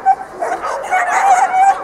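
A working sheepdog at an agility competition gives a quick, close burst of yips and whining barks lasting under two seconds, with a voice faintly mixed in.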